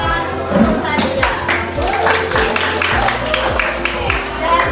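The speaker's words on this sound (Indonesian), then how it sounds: "tepuk tangan dulu untuk Satya" A classroom of students claps for a classmate after a static electricity lesson, a fairly loud, dense and slightly rhythmic patter of hands, with some voices mixed in beneath it.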